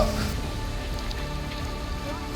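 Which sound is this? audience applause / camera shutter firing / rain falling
rain falling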